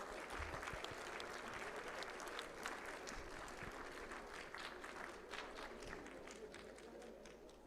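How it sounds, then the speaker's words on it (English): Sustained audience applause for hackathon volunteers at a valedictory session, steady dense clapping filling the hall at low level throughout. "Please welcome them with a huge round of applause."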